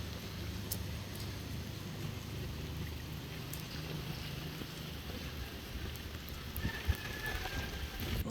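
Rain falls in a steady, soft hiss that stays even throughout, with faint scattered patters and no voices.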